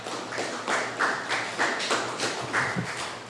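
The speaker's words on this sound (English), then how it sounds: "both of them deserve a round of applause" An audience at an agriculture department workshop on land degradation applauds the presenters, bursts of clapping and tapping landing in a loose rhythm, fairly faint and at a distance.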